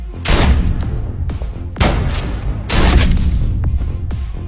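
Gunshots in an action film scene from Colombiana: several loud, sharp broadband bangs, each ringing out briefly amid dense, busy soundtrack noise.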